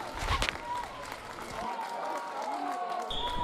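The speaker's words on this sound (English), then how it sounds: "And the crowd is fired up after that one." A crowd cheers and claps in a gym at a boys volleyball sectional final, a steady roar of noise heard at a distance under a commentator's voice.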